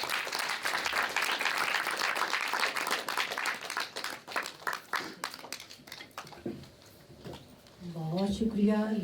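An audience applauds a speaker at a Punjabi literary gathering at Punjab Bhawan in Lahore, with dense, sustained clapping for several seconds that thins out as a voice starts talking.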